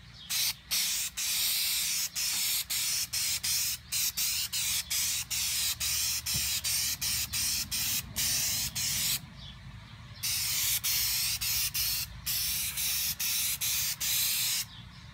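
Aerosol spray paint coating a car headlight, in repeated hissing bursts of a second or so separated by short pauses, close and loud, with a few longer continuous sprays.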